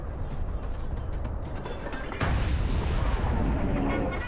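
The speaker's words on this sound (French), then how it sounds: "Mais soudain, des coups de canon tonnent." Artillery fire from the German attack of March 1918 rolls as a dense, booming rumble, stepping up suddenly halfway through into a louder, harsher burst that keeps roaring to the end.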